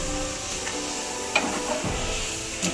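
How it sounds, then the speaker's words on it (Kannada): Chiroti pastry frying in oil, giving a steady close sizzle with a few light taps and stirring clicks against the pan. "ಹಾಗೆ ಸ್ವಲ್ಪ ಆಯಿಲಿಗೆ ಹಾಕಿಬಿಟ್ಟು ಹಿಂದೆ ಮುಂದೆ ಹಾಗೆ ಇದು ಮಾಡಿ ಸ್ವಲ್ಪ ಆಯಿಲ್ ಫ್ರೈ ಮಾಡಬೇಕು"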